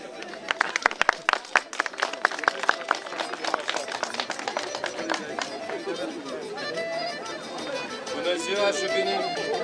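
Audience at the opening of a folk customs festival claps, starting with sharp, scattered close claps that thicken into a steady round of applause, with crowd chatter rising beneath it.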